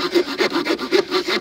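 Victorinox RangerGrip 130 mm folding knife saw cutting through wood, loud close rasping strokes in a quick even back-and-forth rhythm, about six strokes with no talking.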